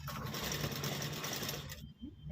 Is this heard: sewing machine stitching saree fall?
yes